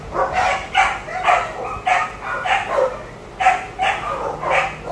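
Dogs at an animal shelter bark in a steady series of sharp, close barks, about eight in five seconds, mixed with a few yips, and nobody speaks.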